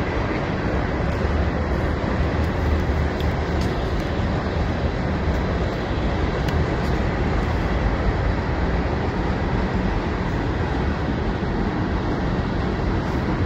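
Train rolling past on a railroad in Tennessee, a loud, steady broadband rumble and rattle of cars that holds unbroken for the whole stretch.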